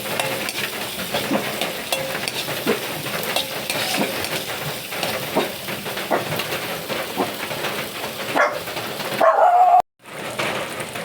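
Tomatoes sauté in a pan with a continuous close sizzle and repeated stirring scrapes, ending with a brief clatter and a short gap.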